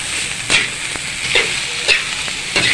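A spoon stirs salted food in a frying pan, a steady sizzle running underneath with a few scraping strokes that come at irregular moments, no one speaking.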